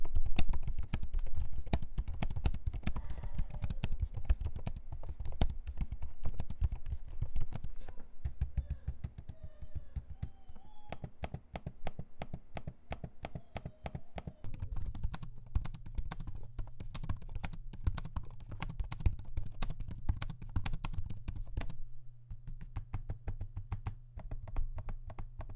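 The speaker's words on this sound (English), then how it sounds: "a sample of me typing on the keyboards and using the trackpad" Close-up typing on the keyboards of an HP Omen 16 and a Lenovo Legion 5i Pro laptop, with steady rapid key clicks and taps and soft trackpad presses, no talking.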